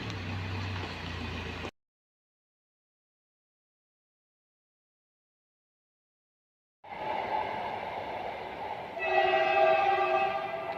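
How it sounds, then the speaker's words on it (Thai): A train rumbles past with a harmonic horn tone, sounding for about two seconds, then silence, then returning louder with horn blasts. "นะรถไฟจ้ะ"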